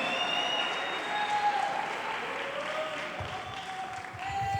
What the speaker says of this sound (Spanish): No sé quiénes están aplaudiendo, si son las mujeres o son los hombres.